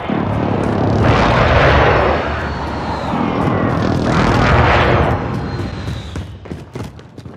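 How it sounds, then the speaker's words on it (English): A precision airstrike in Call of Duty: Warzone brings two loud roaring jet passes that each swell and fade, followed by a string of booming explosions near the end, with no voices over them. "Be advised, friendly precision airstrike inbound."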